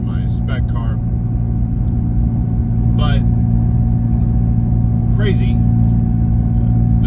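A street car being driven hard at One Lap of America, steady loud engine drone and road rumble throughout, with people talking over it inside the cabin.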